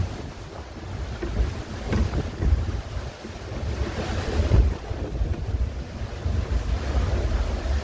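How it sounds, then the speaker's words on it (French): Strong wind and heavy seas roar aboard the Niji 40 racing yacht, with constant gusting wind noise buffeting the microphone and waves crashing and rushing against the hull throughout. "Quarante nœuds de vent, 20 nœuds de vitesse et des montagnes de mer."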